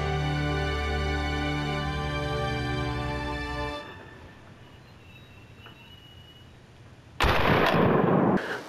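A Sauer SL5 shotgun fires 24 gram steel game loads outdoors: a single loud, close blast with a short rough tail near the end, after a steady tonal drone fades into quiet background.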